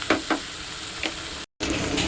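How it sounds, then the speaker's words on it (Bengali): Small kachki fish frying in hot oil with a pinch of salt, a steady close sizzle with a few brief stirring scrapes and a momentary dropout near the end. "মাছের এটাকে এরকম করে ভাজবো উপরে দিয়ে দেবো সামান্য অল্প একটু নুন"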